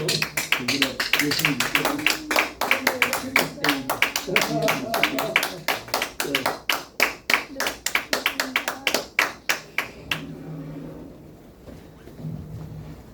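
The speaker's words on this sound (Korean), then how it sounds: "자, 박수." An audience at a Korean revivalist pastors' training session applauds, first in a dense burst over voices, then settling into slower, distinct individual claps before trailing off into quiet murmuring.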